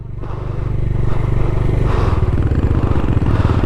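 A motorcycle on a Ladakh ride between Hunder and Pangong Tso revs hard and close while its rear wheel skids and spins in place, a loud, steady, rough engine drone with no talk.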